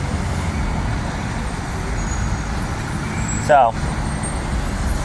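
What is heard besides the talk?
truck passing on a city street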